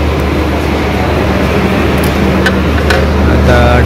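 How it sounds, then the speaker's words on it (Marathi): Netravati Express pulling out of Panvel station, a steady low rumble of the moving train with faint rattles and brief squeals over a constant drone. "चला पनवेलवरून गाडी सुटली."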